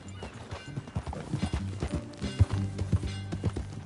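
Horse hooves clip-clop in a steady rhythm in Red Dead Redemption 2, with some snorting and whinnying, close and moderately loud; a few low sharp knocks stand out.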